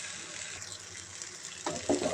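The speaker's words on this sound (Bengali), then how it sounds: "এবার একটু জল দিয়ে দিই" Water being poured into a pan of sautéed masala, a gushing splash with sizzle arriving near the end after steady frying hiss.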